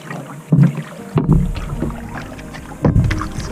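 A canoe is paddled on a lake in Algonquin Park, with three or four rhythmic, close paddle strokes splashing and swishing through the water over steady wind noise.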